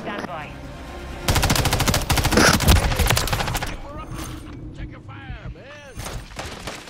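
A loud burst of automatic gunfire rattles out in rapid succession during Call of Duty multiplayer, then gives way to quieter game sounds with chirping effects and a voice nearby.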